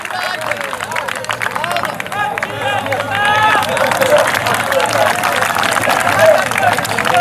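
Crowd at an outdoor kabaddi match clapping and cheering amid a murmur of many voices, with a loud announcer-style voice talking over it and the crowd noise swelling toward the end.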